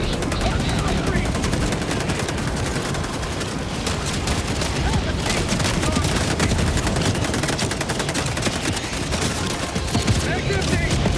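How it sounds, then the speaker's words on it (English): Orbital barrage strike in Helldivers 2, a dense, continuous pounding of explosions and gunfire that stays loud throughout. "Orbital inbound. Firing orbital barrage. Clear the area."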